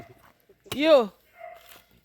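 A dog in the Jamaican countryside of Westmoreland gives a single sharp, close whining yelp. Quiet background noise and a few faint bits of voices surround it.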